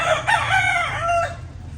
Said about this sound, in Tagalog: dumating na yung mga alaga natin yung mga cocks natin